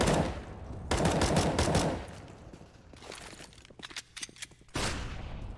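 Pistol gunfire, mostly USP pistols, in Counter-Strike on the Mirage map during a competitive match, bursts of rapid suppressed shots in quick clusters separated by short pauses, with scattered single pops between volleys.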